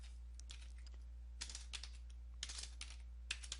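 Computer keyboard keys clack softly in short irregular clusters of taps, close and quiet, during a Windows 10/11 repair procedure at a command prompt.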